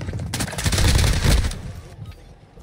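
Gunshots in a dramatic scene, a loud rapid volley of shots bursting in and rattling for over a second before cutting off, leaving a quieter tail.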